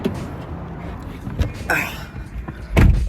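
A car door bangs at close range as someone climbs into a Toyota Camry, with a muffled thump partway through and a heavier slam near the end, over faint background rustling.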